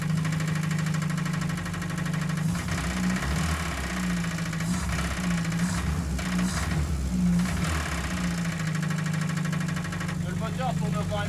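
Renault Estafette Teilhol engine idling steadily with a low, even hum and faint knocking, running continuously throughout under a constant drone, with no speech during the clip.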